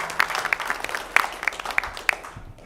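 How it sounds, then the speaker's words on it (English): Scattered applause for a student at a school board of education meeting: a handful of sharp, separate claps spread unevenly across a few seconds in a quiet room, moderately close, with no talking over them. "Round of applause for Logan"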